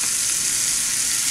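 Chicken dumpling filling fries in a hot pan with a steady, even sizzle close by, loud and continuous, with no voices over it.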